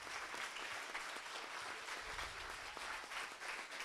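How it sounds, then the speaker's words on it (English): Steady applause from a standing audience honoring the cooks who prepared the evening's food at a church gathering, a dense wash of many hands clapping that stays loud and even throughout. "I need you to give them a round of applause."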